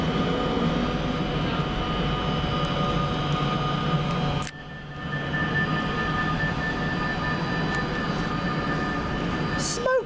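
A Pendolino train pulls out of a station, producing a steady, heavy mechanical rumble with faint tonal hums. The rumble dips briefly midway, then builds again as the train keeps moving.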